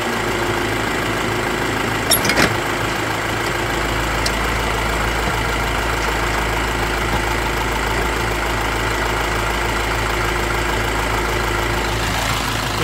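A small motor runs at a steady idle, a continuous even drone held for the whole stretch with a brief clatter of handling early on, nearby and fairly loud with no talking.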